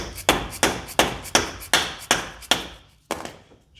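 Hammer blows striking a CV axle on a 2002 Monte Carlo SS to free it, seven or eight sharp metallic bangs at a steady rhythm, each with a short ring, close and loud.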